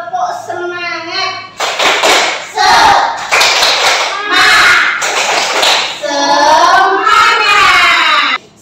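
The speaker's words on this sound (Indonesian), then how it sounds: "kita melakukan tepuk semangat" A classroom of children performs a rhythmic spirit clap, sharp patterned handclaps in quick bursts, with a teacher's voice speaking before the clapping and the children chanting along afterward.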